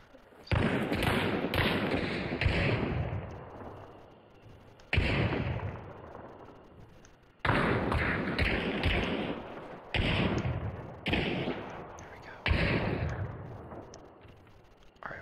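Gunfire in the video game Hunt: Showdown: a series of about six loud, booming shots with long decaying echoes, spaced a couple of seconds apart, heard alone without talk.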